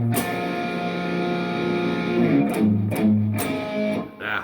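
Distorted electric guitar strummed in a choppy, staccato pattern on sustained chords, close and alone without speech, with a few sharp scratchy string attacks.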